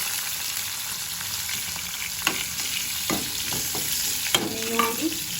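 Onions fry in hot oil with asafoetida, giving a loud continuous sizzle with a few scattered spatula scrapes and clinks, close by and without speech.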